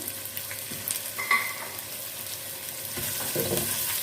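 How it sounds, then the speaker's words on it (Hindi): Brick-cut onions frying in hot oil for chicken karahi, a steady close sizzle with soft stirring scrapes and a few light knocks, no voices. "प्याज को हम फ्राई कर लेते हैं। प्याज को हम गोल्डन कर लेते हैं, गोल्डन फ्राई कर लेते हैं।"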